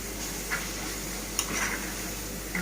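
Taro cubes sizzle and fry in a frying pan while being stirred, with a steady soft hiss and occasional scraping clicks of the spoon against the pan, fairly faint and with no talking.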